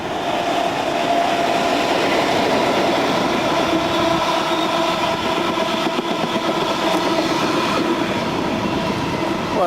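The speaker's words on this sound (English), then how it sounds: "Well, that's pretty lucky to get a nice freight train." A freight train rumbles past on a railway near a viaduct in the countryside, loud and close, a continuous heavy roar of wagons with rhythmic wheel clatter and faint metallic squeal throughout.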